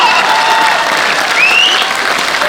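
A packed audience at a Hindi comic poetry gathering applauds loudly and continuously, a dense wash of clapping with faint voices mixed in.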